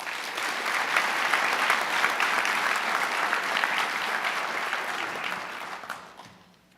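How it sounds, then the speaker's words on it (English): An audience applauds at a senior awards night for a student who has enlisted, steady dense clapping filling the room for several seconds before tapering off at the end. "let's give a hand for him, please"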